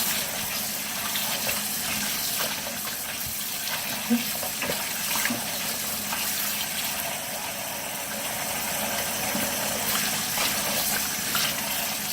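Tap water runs steadily from a faucet as chitterlings are washed in a sink, a continuous broadband gush that holds for the whole stretch, with faint handling sounds and brief speech underneath.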